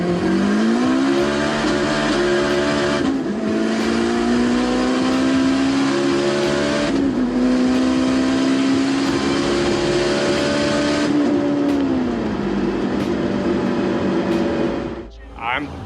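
A turbocharged Honda Civic Si, about 650 hp, pulls hard at full throttle from 60 mph, its engine note climbing steadily with short dips at each gear shift, loud and continuous, with turbo whine and a voice speaking over it.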